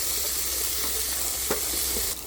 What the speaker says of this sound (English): add the cooked chickpeas to the pan and stir well